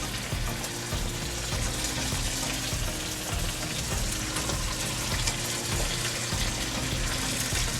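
Tofu and chicken liver simmer in oyster sauce, a steady broadband bubbling and sizzling that runs close and even throughout with no talk.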